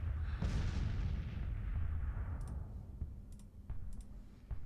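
Artillery and rifle fire in a Civil War 1863 Tennessee strategy game: a heavy cannon boom rolls out and fades, followed by scattered distant musket pops and clicks, with no talking.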